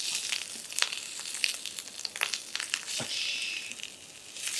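Yellowtail (buri) fillet searing skin-side down in hot oil in a pan over medium-high heat, a steady close crackling sizzle with sharp pops and spatters throughout.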